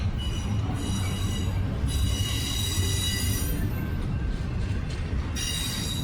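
A freight train rolls steadily past at close range near Stevenson, Alabama, its wheels squealing in long high tones over a continuous low rumble and clatter of rail cars, with no talking throughout.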